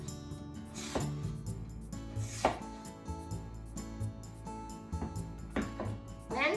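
A knife slices through a peeled vegetable on a cutting board, giving a few distinct chopping strokes about a second apart, fairly close and clear, with light board and utensil knocks between cuts and no talking.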